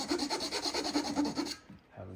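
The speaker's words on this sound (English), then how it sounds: "And as I start chiseling this out," Chisel paring wood while cutting out a Krenov-style smoothing plane, a steady rasping scrape with rhythmic strokes for about a second and a half before stopping, close up.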